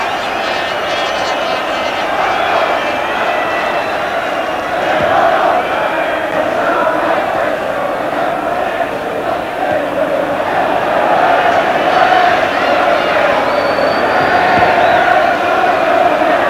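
A football stadium crowd keeps up a steady roar with scattered clapping and cheers after the goalkeeper's routine catch, while a commentator talks over the noise.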